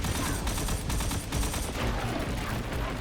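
Dense, continuous automatic fire from machine guns in a Destiny-style shooter firefight, loud and unbroken for the whole moment, with no voices over it.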